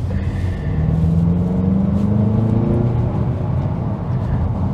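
A 2023 Mazda CX-50 with a 2.5-liter turbo four pulls hard from inside the cabin, its engine note rising steadily under a low road rumble.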